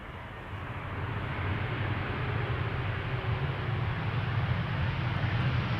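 A KLM Boeing Dreamliner airliner arriving at Amsterdam Schiphol Airport, heard as a steady, broad jet roar that swells slightly and holds at a constant level, with no voices over it.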